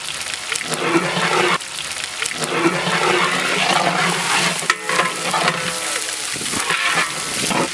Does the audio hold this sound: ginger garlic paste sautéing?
yes